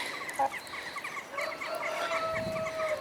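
Bird calls and soft clucking from a black hen over a steady outdoor background, with a few short chirps and a low grunting note near the end.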